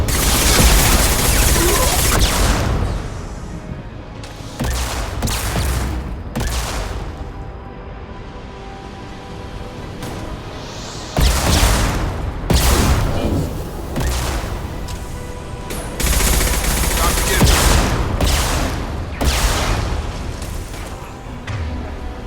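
Weapons fire in the Mass Effect 2 video game comes as loud, booming bursts of gunfire and blasts in clusters, broken by quieter stretches of rumbling background.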